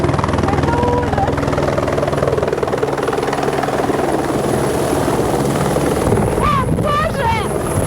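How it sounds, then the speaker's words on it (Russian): Helicopter flying near Mont Blanc, its rotor and engine a loud, steady throbbing roar close by throughout, with excited voices exclaiming over it near the end. "наш вертолет подлетает"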